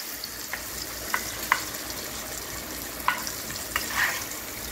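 Papaya dhoka pieces fry in a pan with a steady close crackle of oil, marked by a few small pops and spatters, with no speech.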